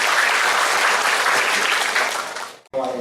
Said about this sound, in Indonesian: Tepuk tangan buat mahasiswa semuanya.